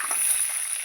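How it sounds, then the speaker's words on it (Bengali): Potatoes drop into hot oil tempered with a dried red chili, setting off a brief, close, bright sizzle that holds steady for under a second. "আলুটা দিয়ে দিচ্ছি।"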